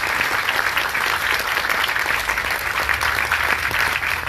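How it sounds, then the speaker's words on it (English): Enthusiastic applause from a large crowd at the Propelify event for Governor Cuomo, a dense steady patter of clapping that holds loud and continuous throughout. "a huge round of applause for Governor Cuomo."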